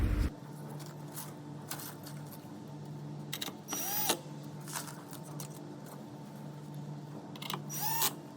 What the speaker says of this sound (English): we are going to install these screws